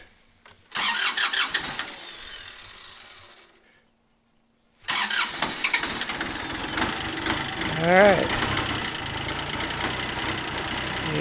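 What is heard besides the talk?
tractor engine starting and running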